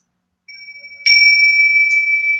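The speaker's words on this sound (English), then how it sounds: "I'm just going to ring the bell to bring us back fully into our bodies." A meditation bell is struck to close a guided meditation, a clear sustained ring that swells and hangs on with a long, pure sustain, heard alone and close.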